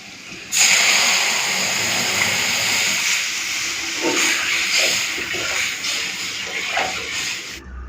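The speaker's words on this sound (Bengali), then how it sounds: "পেঁয়াজটা ভাজা ভাজা হয়ে গেছে ডালটা ঢেলে দেবো" Lentil dal is poured into hot fried onions, setting off a sudden loud hissing burst that settles into a steady, bubbling sizzle with some stirring, lasting several seconds.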